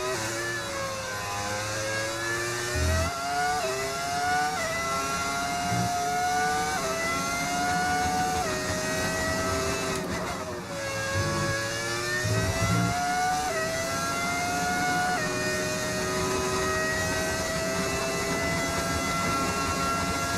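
A modded F1 race car engine in the F1 25 video game, revving high and steady through continuous gear shifts with rising and falling whine, loud and sustained with no talking.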